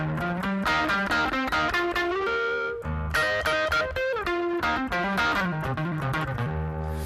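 An electric guitar through a Rocktron Utopia G300 multi-effects pedal plays a melodic run of single notes and chords with a bright, ringing clean tone, steady and continuous without pauses.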